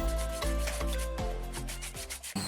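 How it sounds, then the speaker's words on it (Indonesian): A coconut-trunk wooden mortar (cobek) being sanded smooth by hand, with steady repeated rubbing strokes at a close, even level, alone with no talk. "cobek dilakukan proses finishing, seperti dipahat hingga diamplas sampai permukaan cobek benar-benar halus"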